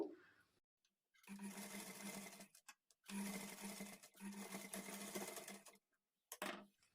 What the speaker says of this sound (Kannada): ಈ ಕ್ಲಾತನ್ನು ಈ ಥರ ಫೋಲ್ಡ್ ಮಾಡಿಕೊಂಡು ಸ್ಟಿಚ್ ಮಾಡಿಕೊಳ್ಬೇಕು